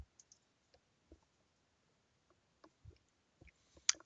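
Computer mouse clicking while working in Substance Painter: a sparse series of soft, close clicks scattered irregularly over a quiet background, ending with one sharper click.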